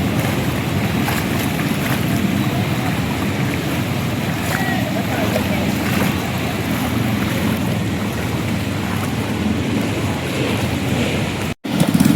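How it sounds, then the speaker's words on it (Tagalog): Steady broadband hiss of rain with wind and water noise outdoors during a typhoon flood in Hagonoy, Bulacan, continuous and fairly loud, ending in a brief dropout. "Medyo lumalakas na naman yung ulan"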